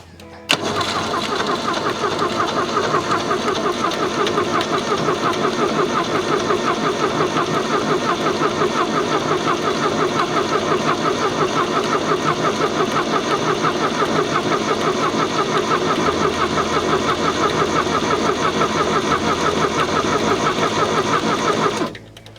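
Unimog diesel engine, a barn find with glow plugs preheated, cranks briefly and then catches and runs steadily, a loud continuous mechanical clatter close by that carries on to the end with no voices.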